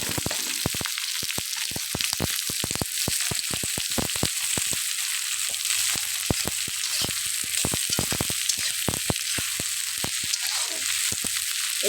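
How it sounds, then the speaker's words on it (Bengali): Cinnamon, cardamom and onion frying in oil for pulao, a hissing sizzle broken by dense, sharp crackles and pops throughout, close and lively with no talking. "দিয়ে দেবো দারচিনি, এলাচ, দিয়ে দেবো পেঁয়াজ"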